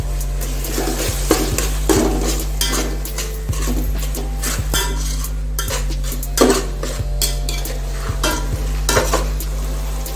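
Ginger garlic paste is stirred into softened onion and tomato while making a homemade veg biryani masala: a spoon scrapes and clinks repeatedly against the pan over a continuous close sizzle, fairly loud, with no voices.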